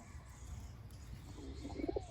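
A pet pigeon in a loft gives a short run of soft, rising coos near the end, close and fairly quiet over faint background hum.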